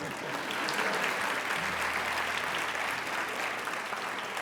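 Sustained audience applause at a university Dean's List ceremony, a dense steady wash of many hands clapping that stays loud throughout, with no talk over it.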